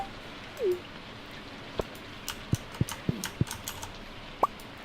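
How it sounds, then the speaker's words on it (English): Rain in the video game Stardew Valley patters softly in the background, scattered plinks and drips sounding over a quiet, steady hiss. "Sounds like a rainy day out here."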